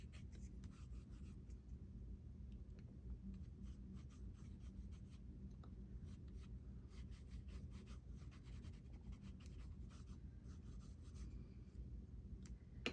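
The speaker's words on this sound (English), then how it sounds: "And then I'm just gonna put some colored pencil" Colored pencil scratching across a stone paper sketchbook page, a quiet, close, steady scribbling with rapid short strokes over low background hum, no voices.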